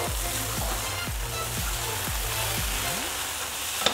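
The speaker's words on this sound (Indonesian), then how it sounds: "Kita goreng senang saja ya." Rice noodles with chicken sauce crackle and sizzle in a hot pan while a utensil scrapes and thuds in a regular rhythm, about twice per second.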